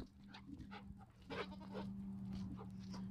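Goats bleat on a muddy farm with dogs nearby, several short calls scattered over a steady low hum, fairly faint and distant.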